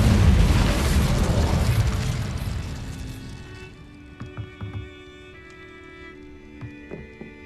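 An Incendio fire spell in Hogwarts Legacy bursts with a loud roaring whoosh that swells and then fades over a few seconds, followed by quieter game sounds and light clicks.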